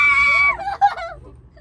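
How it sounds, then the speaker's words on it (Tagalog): A child screams in fear while riding a cable car at Ocean Park in Hong Kong: one long, high, loud scream breaks into a wavering whimper and fades into quiet. "Kaya pala sumisigaw siya, no?"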